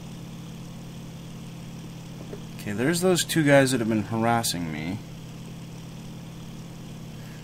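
WWII fighter plane engine droning steadily in IL-2 Sturmovik, a constant low hum under a man's brief spoken remark that continues alone before and after.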